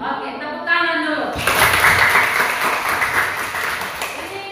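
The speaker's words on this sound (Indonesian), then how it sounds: "Oke, tepuk tangan dulu." Schoolchildren in a fifth-grade class burst into a round of clapping that starts abruptly and stays steady and lively to the end, following a brief stretch of a teacher's voice.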